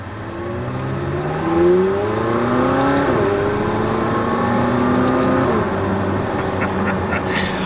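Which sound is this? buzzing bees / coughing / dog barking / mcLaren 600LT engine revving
mcLaren 600LT engine revving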